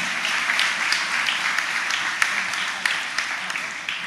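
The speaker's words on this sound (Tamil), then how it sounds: "நல்லா கைத்தட்டலாம்," Audience applause fills a hall at a Tamil pattimandram debate event, a sustained dense clapping that carries steadily throughout at moderate loudness.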